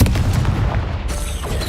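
Confringo blasting curse in Hogwarts Legacy goes off as a loud, close burst of booming, crackling detonations that fade into a rumbling tail.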